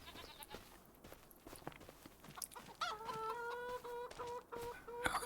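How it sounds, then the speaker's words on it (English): Chickens in Farming Simulator 25 cluck repeatedly in a farmyard, with sharp bursts and a drawn-out rooster-like call near the end, set over steady ambient background noise. "Chickens."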